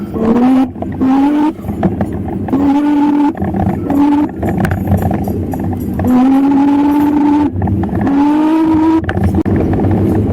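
A Raze Ekron electric scooter accelerating in first gear with two riders aboard, giving loud, close motor whines that climb in pitch in repeated bursts with short pauses between.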